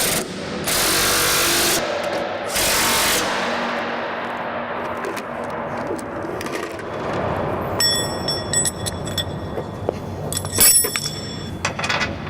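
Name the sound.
tightening bolts while installing a bin paddle sweep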